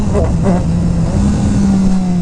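A 2018 Triumph Street Triple 765 RS motorcycle revs hard in second gear at about 30 mph during a wheelie attempt, its engine note rising loud and near with a brief stutter early on.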